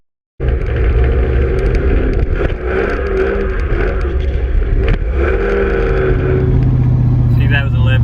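A car fitted with a hydraulic handbrake drifts through a left-hand turn, its engine droning steadily and rising in pitch, with tire and road noise close by.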